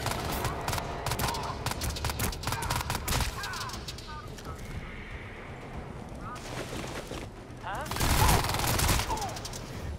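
Gunfire in the video game Crysis 2 crackles in bursts and volleys, dense and rapid at first with a heavier blast near the end, under excited talking from a player.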